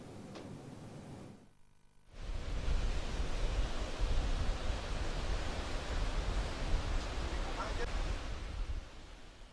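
Strong wind and high surf roar steadily at Pasut beach in Tabanan, a dense broadband wash that drops away briefly near the start before returning loud and continuous.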